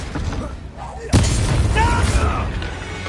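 The Confringo blasting spell in Hogwarts Legacy lands with a sudden booming explosion and a rumbling tail. A voice calls out over it during play.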